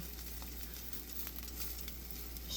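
Eggs sizzle steadily in a frying pan with the heat just turned off, a continuous soft crackling hiss as the pan is swished gently, fairly quiet and close, with no talking.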